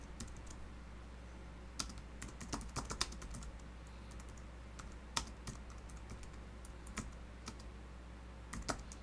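Keys on a computer keyboard clack in irregular bursts of typing, close and fairly quiet over a steady low background hum, with no talking.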